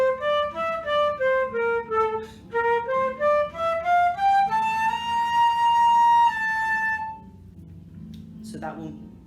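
A solo flute plays a lyrical phrase at mezzo forte, a line of clear sustained notes with breath-like swells, ending on a long held tone followed by a faint breath.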